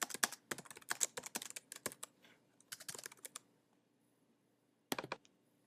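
Rapid clattering keystrokes on a computer keyboard, entering notes into CopLogger police logging software, come in quick bursts with a pause, then a final short flurry; close and fairly quiet, with no talking.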